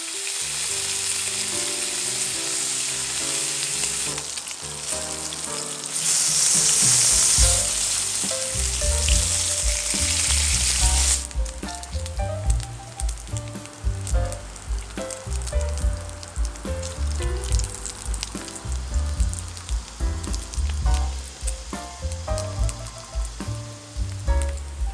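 Breakfast sizzles and fries loudly in a pan over a small fire burner at a campsite, a constant bright crackle with stirring and scraping, joined after about eleven seconds by music underneath.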